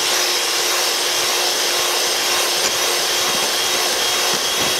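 An electric mixer whips cream for a chilled lemon dessert, giving off a steady, loud, high-pitched whirring drone that holds unchanged for the whole stretch, with no voices.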